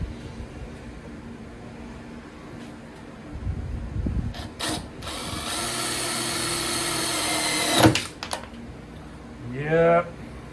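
A power drill drives 1.5 inch screws into a wooden whiskey barrel, sounding as one sustained whirring run after some light handling knocks, close and loud, with a brief voice at the end.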